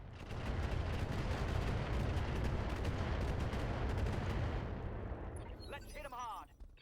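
Dense gunfire and heavy weapon blasts fill a sci-fi combat video game, a loud continuous barrage that fades near the end as a voice starts to speak.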